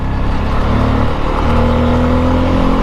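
A 2021 Bajaj Pulsar F250 motorcycle on a city ride, its engine droning loud and close with shifting tones and steady wind rush, no talk over it.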